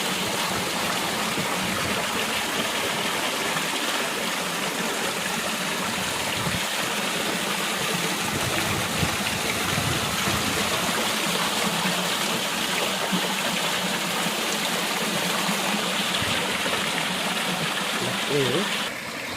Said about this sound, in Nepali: यो झरनामा चाहिँ विशेष गरी म अब तपाईँहरूलाई पानीको आवाज सुनाउन गइरहेको छु